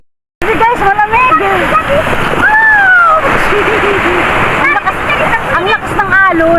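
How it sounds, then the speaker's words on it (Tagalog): Strong waves splash and surge at a beach on Lantau Island's Tung Pok Village, a loud continuous wash of rushing water, with excited shouting and talking on top throughout. "Ang lakas ng alon."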